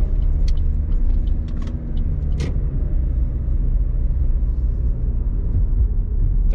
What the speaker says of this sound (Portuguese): começa a passar carro do outro